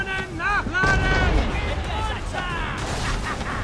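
Naval cannons fire in an Assassin's Creed 3 sea battle, loud booming blasts layered over a constant roar of wind and water. A voice is heard through much of the stretch.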